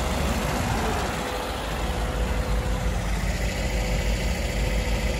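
A Niva car engine idling at an outdoor car market in Kyzylorda, giving a steady low rumble throughout, close and fairly loud, with no speech.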